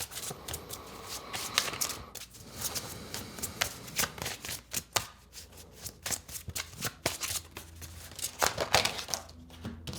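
A deck of mirror cards being shuffled close up, a continuous papery riffling and flicking with sharper snaps scattered throughout, fairly quiet and without speech.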